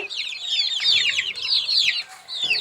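Young chicks awaiting vaccination cheep in rapid, high-pitched bursts, several birds peeping close by in quick overlapping runs with short pauses between flurries.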